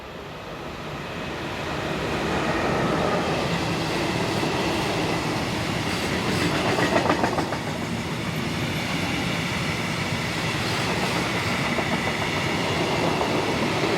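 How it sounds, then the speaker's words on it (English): A heavy freight train of steel slab hauled by locomotive 145066 rumbles past, a loud continuous roll of wheels with rhythmic clickety-clack over rail joints after a rising approach. "Our first train is a load of steel slab headed by 145066"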